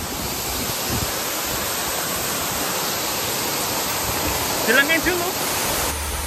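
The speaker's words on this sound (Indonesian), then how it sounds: "tidak sabar langsung merapat di bawah air terjun" The Curug Sumuran waterfall at Rockland roars as a steady, dense wash of falling water that stays loud throughout, with a brief slight swell near the end.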